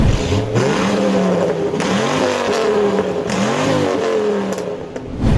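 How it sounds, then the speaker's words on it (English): A Dodge Ram SRT-10 street truck with a 530-horsepower Dodge Viper engine and six-speed manual revs hard several times in quick succession, each rev climbing and falling back, loud and close with no talk. "with an engine that crazy, you'd expect a crazy sound, and you're in luck because you are right"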